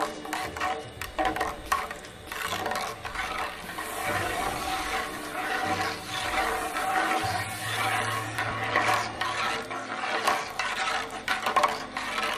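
Salt is stirred into a bath of fabric dye in a container, giving continuous swishing and scraping with clinks of the stirring utensil and a low hum partway through.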